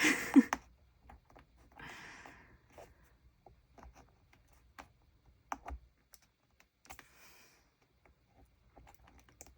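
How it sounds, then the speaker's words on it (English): Plastic sheet being cut with scissors or a craft blade for a journal, a sparse series of small close snips and clicks separated by quiet gaps, with no talking. "I promise I'm cutting plastic and not just air"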